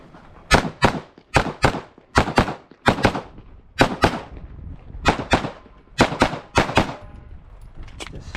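Pistol gunfire on a USPSA shooting stage: rapid, loud, close shots fired in quick pairs and short strings, separated by brief pauses across the run.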